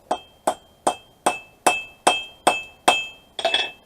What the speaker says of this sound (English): I'm going to flatten this end just a little bit so I have something to hammer on that's flat